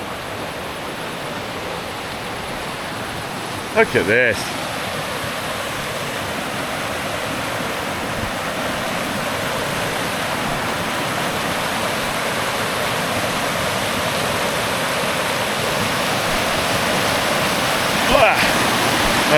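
Constant broadband rush of a flowing mountain river, steady and close, with a brief spoken remark and a couple of faint clicks early on.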